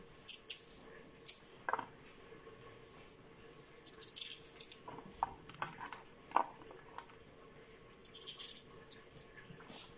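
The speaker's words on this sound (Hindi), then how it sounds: "इस तरीके से हम इस साइज़ के अकॉर्डिंगली मुरब्बे के लिए हम कटिंग कर लेंगे सारी गाजरों को" A knife cuts carrots into pieces for murabba, a sweet carrot preserve, giving sharp, irregular chopping clicks and taps spread through a quiet room.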